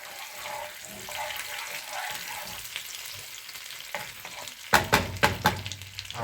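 Regular butter melts and sizzles in a pan for garlic butter shrimp, a soft steady frying hiss under light scraping, followed by several sharp clacks of a cooking spoon stirring against the pan.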